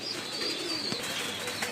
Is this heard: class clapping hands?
no